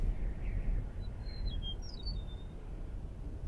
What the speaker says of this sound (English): You can hear that birds in the background,